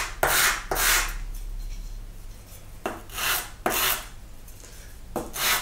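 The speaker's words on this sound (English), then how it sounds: "I'm going to use a flat piece of sandpaper on the bench." A flat piece of sandpaper on a bench rasps against wood along the grain in several long strokes, each a loud scratchy sweep separated by short pauses, close up.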